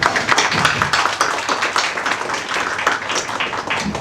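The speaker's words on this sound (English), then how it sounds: "Give them a big round of applause for making this happen." Audience at a preschool annual day celebration clapping, fairly close and loud, with distinct uneven hand claps and taps forming a lively, irregular patter throughout.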